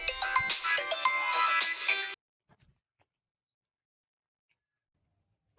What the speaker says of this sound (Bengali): কোথায় ফোন বাজছে?